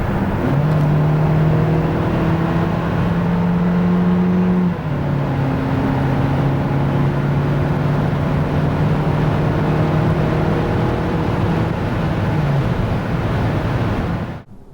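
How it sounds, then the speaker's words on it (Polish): A 2024 SsangYong Torres with its 1.5 GDI turbo engine (163 hp) pulls from 90 to 140 km/h, a steady rising engine drone with one gear shift, set against loud road and wind noise inside the cabin. "A tak od 90 do 140 km na godzinę."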